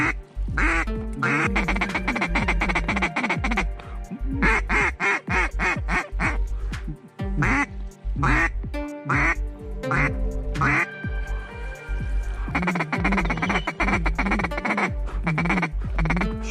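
Ducks quack loudly and repeatedly in dense, overlapping bursts during a duck hunt, close and continuous, with brief pauses between calls and no clear talk.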